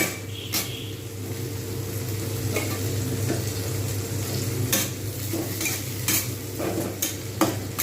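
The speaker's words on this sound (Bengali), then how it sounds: "টমেটোগুলো যতক্ষণ পর্যন্ত না নরম হচ্ছে ততক্ষণ পর্যন্ত কিন্তু আমি অপেক্ষা করব বেশ কিছুক্ষণ সময় ধরে ভাজব" Chopped tomatoes fry in a pan for a pomfret fish curry, giving a continuous loud sizzle broken by repeated sharp scrapes and clinks of a spatula stirring against the pan.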